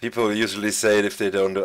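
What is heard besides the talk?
None of the usual background noises is heard.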